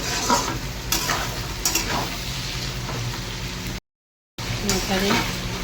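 Capsicum, onion and green and dry chilies with chili sauce sizzling in a pan while being stirred, steady frying hiss with scraping stirs, close and continuous.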